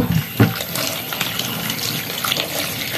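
Potatoes are washed under a running tap at a sink, with a steady gush of water and occasional splashes and knocks as they are handled close by.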